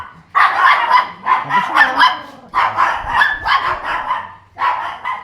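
Several dogs barking repeatedly in bursts outdoors at Pulong Monte, a rural area, loud and close, with a brief voice heard amid the barking.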